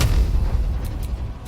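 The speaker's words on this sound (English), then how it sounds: "How big is the needle blast explosion?" A needle blast explosion in Baldur's Gate 3 lands as a loud, booming blast with heavy low rumble, decaying over about a second and a half with no talking.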